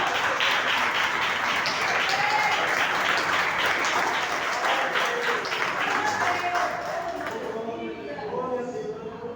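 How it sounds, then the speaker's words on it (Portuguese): A church congregation claps steadily, loud at first and then gradually thinning and fading toward the end, with faint voices mixed in. "Quantos podem aplaudir a Jesus?"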